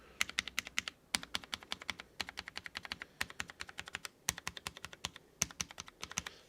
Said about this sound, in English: So now we're going to test the actual keyboard itself.